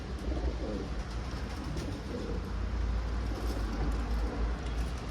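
Pigeons coo softly in low, rolling murmurs over a steady background rumble, faint and continuous.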